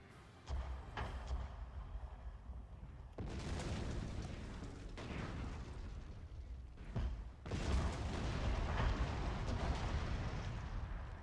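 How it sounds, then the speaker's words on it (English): Shrapnel artillery fire in the Total War: Fall of the Samurai strategy game, heard as a sequence of heavy booms and blasts. Bursts land around 0.5, 3 and 7.5 seconds, each followed by sustained roaring rumble with no talk. "Oh good, we'll have shrapnel fire in just 11 seconds."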